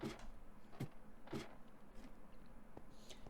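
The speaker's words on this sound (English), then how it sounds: "Hidden piston door." Hidden piston door in the Minecraft video game opens with a few sharp mechanical clacks spaced irregularly, close and fairly quiet over a low background hum, no speech.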